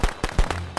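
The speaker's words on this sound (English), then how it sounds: "I put a firecracker." Firecracker blasts inside a video game: three or four sharp, loud bangs in quick succession within under a second, each a broadband crack with a short low thump, with no talking.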